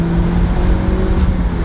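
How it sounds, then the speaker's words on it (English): Interior drone of a 90s Japanese import car driving, a loud steady engine hum with faint turbo whistle tones, no voices. "I forgot about the cool little boosty noises that this car makes"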